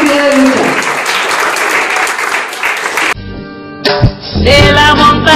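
Strong applause from a gathering of women rights defenders, a loud dense clapping burst for about three seconds that cuts sharply into music, with clapping rising again briefly near the end.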